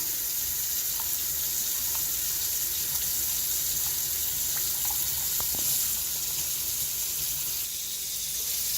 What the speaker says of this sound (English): I like to run the cold water while I finish up.